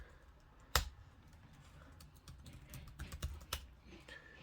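Keystrokes tapped on a MacBook Air keyboard while logging into a Raspberry Pi over SSH, a sharp loud click near the start followed by a quicker burst of light, irregular taps toward the end, close and alone with no talking.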